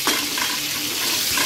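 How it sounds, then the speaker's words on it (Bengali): Pieces of pointed gourd (potol) fry in hot oil in a pan while a spatula scrapes and stirs them, giving a loud, close sizzle broken by light scraping strokes, with no voices. "হালকা আগে একটু ভালো করে ভেজে নেবো পটলগুলো, বেশি যাতে পুড়ে না যায় পটলগুলো সেইভাবে ভাজতে হবে।"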